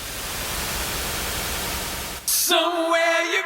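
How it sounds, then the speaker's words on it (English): Guitar Rig reverb with a frozen tail gives off a dense noise wash that drops out and switches into a buzzy, stepped zipper texture as the size is changed, loud and close with no voices. "get this cool zipper effect"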